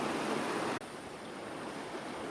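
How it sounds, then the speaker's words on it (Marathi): Knee-deep stream of water spilling from a lake spillway through dense trees rushes steadily nearby, an even, constant wash of flowing water that dips for an instant, then resumes with no talking. "असा खळखळ खळखळ करणारा ओढा आहे."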